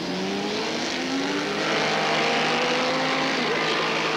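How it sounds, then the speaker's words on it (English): High-revving racing motorcycles of the AMA Superbike class lap Laguna Seca raceway, a steady loud engine wail with rising and falling pitch as machines pass, no talk. "Spencer and Cooley pulling away from everyone else."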